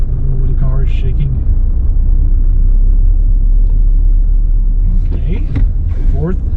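A car's engine rumbles deeply and shakes while it rolls in third gear with no gas applied, a loud steady low drone throughout, with a person talking over it near the start and end.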